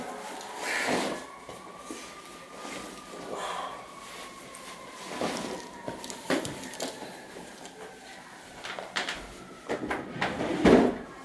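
A wooden dresser drawer in a New York hotel room slides open and shut several times with soft knocks and scrapes, fairly quiet, mixed with rustling and faint breathing.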